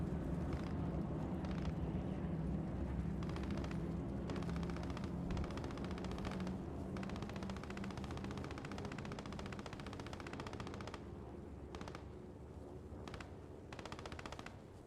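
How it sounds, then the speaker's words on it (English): Sustained machine-gun suppressive fire from a Puma vehicle in a military video game, a dense, rapid stream of shots rolling on continuously over a low rumble with only short pauses. "I think that's just the MG of the Puma just putting down suppressive fire"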